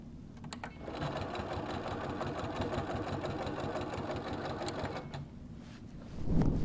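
A sewing machine runs steadily for about five seconds, stitching a Halloween vest with an eighth-inch seam along the edge, its fast, even needle rhythm close and clear before stopping, followed by a brief soft handling noise.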